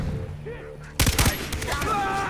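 Gunfire in the video game Far Cry 3, a sudden close burst of rapid automatic shots following quieter game sounds, then a lingering noisy tail, with a voice shouting in the game.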